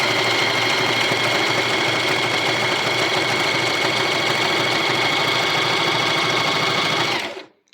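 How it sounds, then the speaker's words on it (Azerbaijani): A Janome SE 7522 sewing machine stitching at a steady fast pace, a continuous close whirring hum with rapid needle clatter, running evenly for about seven seconds before winding down and stopping. "Yenə iğnəni batırıram və tikirəm"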